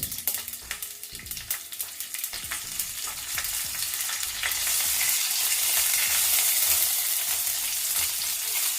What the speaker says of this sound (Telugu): మిర్చి కొంచెం ఫ్రై అవ్వాలి.